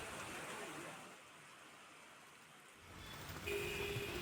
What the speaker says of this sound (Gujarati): હળવદ પંથકમાં ધોધમાર વરસાદ પડ્યો છે।